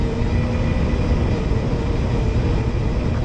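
A radio-controlled J3 Cub model airplane's engine held at full throttle during takeoff, a steady, loud, continuous drone with a broad buzzing roar that stays constant throughout, no voices.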